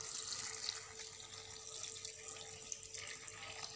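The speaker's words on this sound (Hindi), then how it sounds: "इतना पानी डालेंगे ये डिप हो जाए।" Steady running water pours continuously onto strawberries in a bowl, like a tap filling it, close by and fairly loud throughout with no speech.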